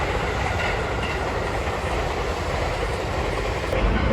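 A train rolls along the rails with a steady, loud rumble and a clickety-clack rhythm from the wheels, and no one speaks.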